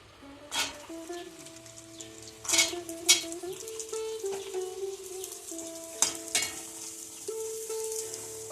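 Pieces of banana stem deep-frying in hot oil give a continuous close sizzle with bursts of crackling and a few stirring clatters, with no voices.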